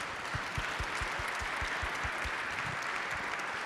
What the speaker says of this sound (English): Please give an applause to the panelists.